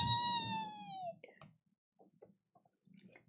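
A cat meows once in a long, loud, drawn-out cry with a falling tail, followed by faint scattered clicks and rustles nearby.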